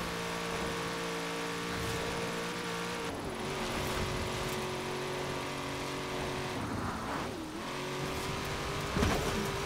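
A Chevrolet Camaro ZL1 drives in Forza Horizon 4, its engine droning steadily with pitch dips as it shifts or lifts off around turns, a continuous moderate roar without talk.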